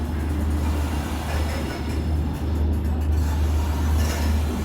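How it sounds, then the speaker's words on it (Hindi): An Intercity Express train rolls into Delhi Junction railway station, a steady loud low rumble of wheels and carriages running continuously with no pause. "फाइनली अपनी ट्रेन पहुँच रही है दिल्ली जंक्शन रेलवे स्टेशन।"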